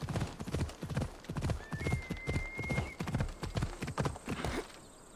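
A horse in the video game Assassin's Creed Odyssey gallops with steady, loud hoofbeats and gives a brief whinny partway through, with no talk over it.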